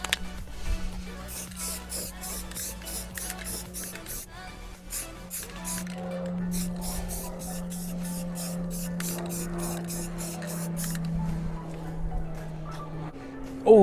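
Aerosol spray paint hissing onto the door handle area of a Nissan Hardbody pickup, in a long run of short, evenly repeated bursts over a low background hum.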